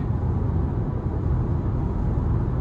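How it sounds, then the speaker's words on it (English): Steady broadband wind and road noise fills the cabin of a 2025 Toyota Camry XLE on the move, a constant, even rush with no distinct events. "just a little bit of wind noise, nothing out of the ordinary"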